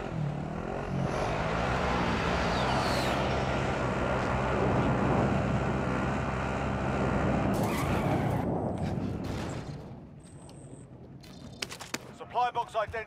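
Steady engine roar of a vehicle driven in Call of Duty: Modern Warfare, loud and continuous for most of the stretch before dropping away, with voices talking over it.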